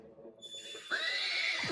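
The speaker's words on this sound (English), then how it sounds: "Yes, it's a horse." A horse gives a loud, clear whinny near the microphone: a bright, quavering neigh that rises and holds for about a second after a brief softer lead-in.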